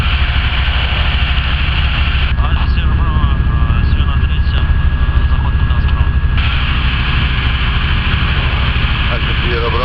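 Steady, loud drone of a small airplane's engine throughout a solo flight, with radio chatter and a voice heard over it in the middle stretch.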